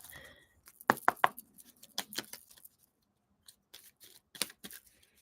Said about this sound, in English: So let's shuffle it good. These are so hard to shuffle because they're like heart-shaped.